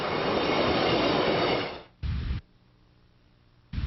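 A train rolls past a highway-rail crossing, a loud steady rush of wheels and rumble that fades off, followed by two short sharp bursts separated by quiet.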